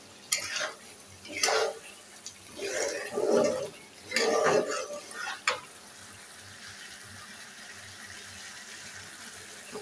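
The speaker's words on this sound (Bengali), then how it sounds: "কয়টা আলু দিয়ে এটা রান্না বসিয়ে দিয়েছি চুলা পরে" Meat and potatoes cook in a pot on a stove, with several bursts of scraping, stirring clatter against the pot followed by a steady low simmering hiss, close by with no talking.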